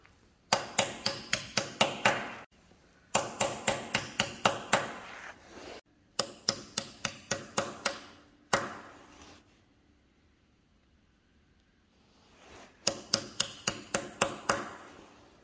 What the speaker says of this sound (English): Just using a small chisel there.